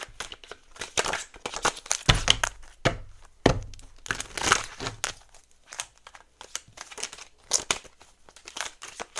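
Tarot cards being shuffled by hand, close and crisp, in irregular bursts of riffling and crinkly slapping with short pauses between, heard alone without talk.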